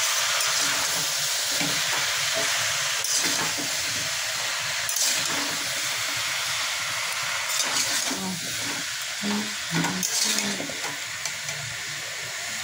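Fish and aubergine frying in a pan give a continuous sizzle and hiss while turmeric and salt are stirred in. Repeated scraping and clattering of a spoon against the pan come through, growing busier toward the end.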